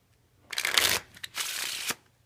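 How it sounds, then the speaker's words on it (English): A deck of playing cards being shuffled by hand for a card trick, two close riffling bursts of crisp flicking, the first longer and louder, separated by a short pause. "I am shuffling it"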